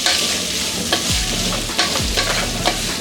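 Sliced capsicum stirred and fried in oil with salt, a steady close sizzle broken by several sharp scraping stirs of a spatula against the pan.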